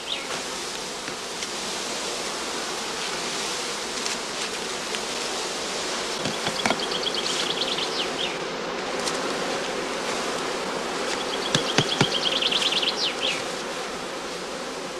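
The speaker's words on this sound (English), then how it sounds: "Second swarm bees are also filled into skeps containing old comb without honey or brood." A honeybee swarm buzzes at a heather skep apiary during the cast swarming period, a dense continuous drone of many bees with occasional individual insects whining past close by.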